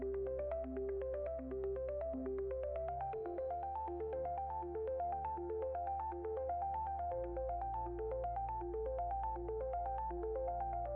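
A melodic phone ringtone plays steadily and loudly, a looping tune of bright electronic notes over a sustained low bass, with no voices over it.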